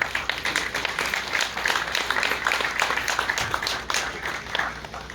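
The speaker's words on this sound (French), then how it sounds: "J'aimerais encore qu'on puisse l'applaudir." Applause from the audience at the inauguration of a waste collection centre in Guadeloupe, a steady crowd of hands clapping for about five seconds with no voices over it.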